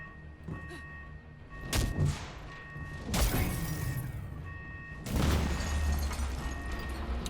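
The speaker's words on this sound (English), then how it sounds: "That was just an explosion." Explosions in the video game Marvel's Avengers: several loud, broadband booming blasts at intervals, each followed by rumbling debris over a steady game background.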